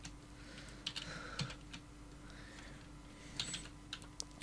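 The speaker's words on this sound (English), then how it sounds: "so I'm going to type it as this" Sparse computer keyboard typing, a few isolated clicks and short bursts of keystrokes at close range, fairly quiet and with no talking.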